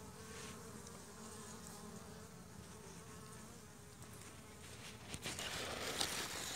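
Honeybees buzz around a weak hive in a continuous, even drone of many insects close by, with a few light taps near the end and no voices.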